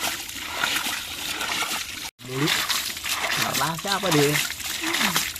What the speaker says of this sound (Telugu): ఇంకా వాటర్ తోడుతూనే ఉన్నాడు ఇంకా ఇందులో వాటర్ వస్తూనే ఉంది